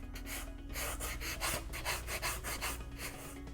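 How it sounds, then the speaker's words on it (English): Sandpaper rubbing over a costume armor piece to smooth it, a continuous rhythmic scratching of quick back-and-forth strokes, close and steady with a low hum underneath. "go over it 2 more times with your other 2 grades of sandpaper"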